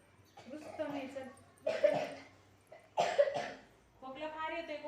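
A child coughing in a school classroom, a few sharp bursts breaking between stretches of speaking voices close by.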